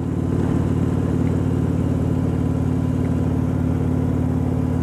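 A 2016 Harley-Davidson Road Glide rental motorcycle rumbles steadily while riding, its engine drone and road noise continuous and loud throughout with no pauses or voices.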